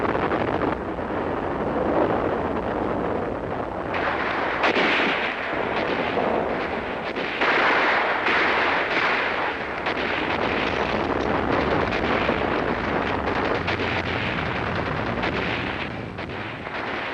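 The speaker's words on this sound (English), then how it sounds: "one of our T-26 tanks prepares to fire point blank on the enemy Mark V." Continuous heavy battle din of World War Two tank combat with T-26 tanks firing on a German Mark V, dense rumbling blasts and gunfire blending into a loud, unbroken roar.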